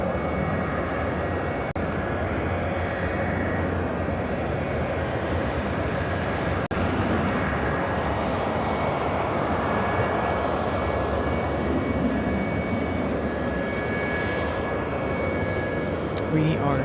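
Airliner bound for Detroit moving on the ground at Chicago O'Hare, a steady, moderate engine rumble with a faint high whine held for the whole span, with no clear rise or fall.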